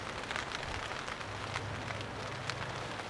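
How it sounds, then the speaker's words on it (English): Rain falling in UK woodland during an outdoor vehicle training trip, a dense continuous hiss of drops on leaves and surfaces with scattered louder splats, close and steady, no talking. "Guess what? It's bloody raining."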